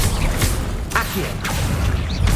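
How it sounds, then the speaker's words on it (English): An Accio summoning spell in Hogwarts Legacy, heard as a quick whooshing, mechanical crackle with a sharp burst near the middle, amid ongoing combat noise. "Accio!"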